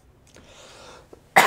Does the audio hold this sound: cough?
yes